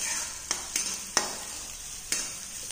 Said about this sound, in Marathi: ते आता असं हळूहळपणे हलवून घ्यायचं, कांदा लाल असं होईपर्यंत आपण परतून घ्यायचं तेलामध्ये।